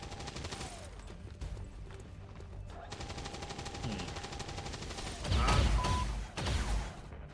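Bursts of automatic gunfire and suppression fire in the tactical strategy game XCOM 2, rattling through a steady game soundtrack and growing louder near the end, with heavy impacts in the final seconds.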